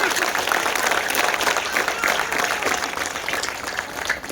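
A loud, dense wash of clapping from an audience at a public welcome gathering for a police commissioner in Hubli, sustained and even for the whole clip, with faint voices mixed in.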